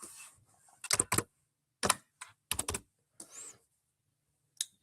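Short bursts of typing on a computer keyboard as a vehicle registration number is entered, in quick clustered clicks separated by pauses, close and fairly quiet, with no talk.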